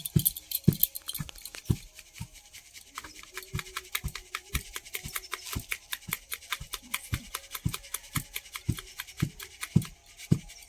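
Rice grinding into powder in a wooden mortar, a steady series of dull, evenly spaced pounding thuds with scraping grit between strokes, close and moderately loud.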